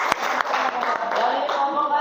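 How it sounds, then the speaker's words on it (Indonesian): A room of participants claps for a student group after its presentation at a teacher-certification performance assessment, a dense, steady patter of many hands lasting about two seconds with no pause. "tepuk tangan untuk kelompok"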